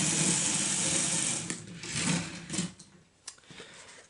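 Motorized LEGO 31084 Pirate Roller Coaster running, driven by an M motor with a battery box, making a steady whirring, clicking mechanical rattle that loosens into irregular clicks.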